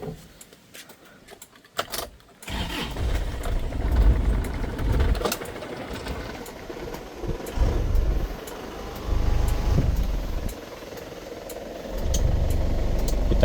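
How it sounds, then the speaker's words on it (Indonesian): Isuzu Panther LS Turbo diesel engine cranks after a quiet start, catches and settles into a steady, fairly loud idle with low rumbling and occasional clicks, close by. "Terus kita hidupkan mesin."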